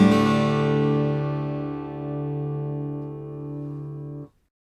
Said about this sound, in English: And now we have the complete Dadgad tuning, which characteristically sounds like this.